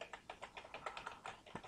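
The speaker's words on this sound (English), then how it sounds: "I will use keyboard shortcut key, control K." Rapid, quiet clicks of a computer keyboard, about a dozen light keystrokes in a quick, even run, heard close up with no voice.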